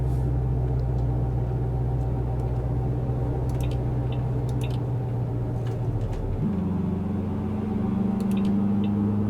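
A Volkswagen Passat 1.6 diesel engine in Euro Truck Simulator 2 drones steadily at night, a constant low hum that shifts pitch upward partway through as the gear or revs change, with a few faint clicks on top.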